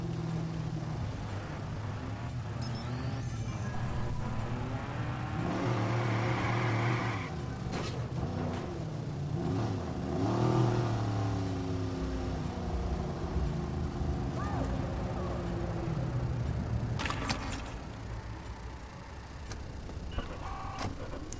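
A car in Watch Dogs starts up and drives off, with a rumbling engine that rises and falls over several seconds and a few clunks, heard through a busy game soundscape.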